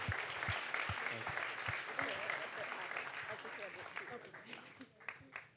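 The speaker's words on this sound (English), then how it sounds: "Another round of applause for the crew, please." Applause from the audience for the crew at a Q&A event, dense clapping that gradually thins into scattered claps, with voices murmuring underneath.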